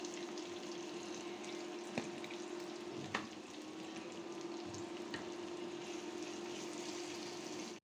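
Shrimp coated with turmeric, salt, coriander and chili powder frying in hot oil, a steady close sizzle running throughout with a few small pops and clinks.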